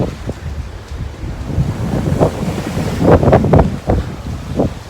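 A sailboat runs deep downwind on a North Sea crossing, with gusting wind buffeting the microphone and waves rushing and splashing against the hull in irregular surges.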